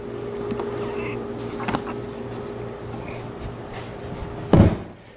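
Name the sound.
heavy wooden file cabinet being flipped over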